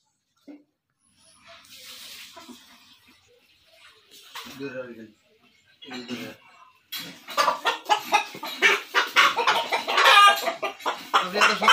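Brahma hens in their coop give scattered clucks and squawks, then break into a louder, busy run of rapid clucking toward the end. The birds sound close, with a person speaking in between.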